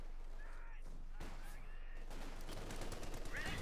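Machine gun fire in a Company of Heroes 2 battle, heard as a rapid rattling burst near the end over a steady low background of battlefield noise, fairly faint overall.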